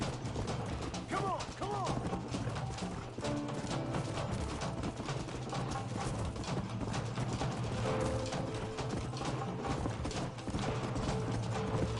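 Horse galloping in the video game Red Dead Redemption, steady rhythmic hoof beats mixed with creaking, mechanical game sounds and music over twelve seconds, at moderate level.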